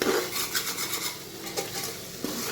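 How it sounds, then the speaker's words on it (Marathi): A spoon stirs a sticky jaggery mixture in a pot, giving close, repeated scraping and clinking strokes against the metal with light sizzle underneath, and no talking. "हलवून घेते छान असं मिक्स केल्यानंतर खाली लागणार नाही"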